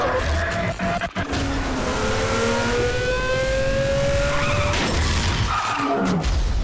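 Race cars roar through a Need for Speed Shift video game race, with engines rising in pitch through the gears, tires squealing, and a dense, loud mix of passing cars and impacts.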